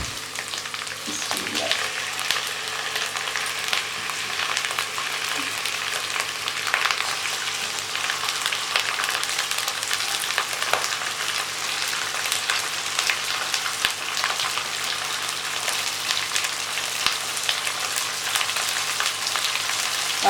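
Masala frying in a pan for a Pakistani chicken karahi, giving a steady, even sizzle that runs unbroken for the whole stretch at moderate loudness, with no talking over it.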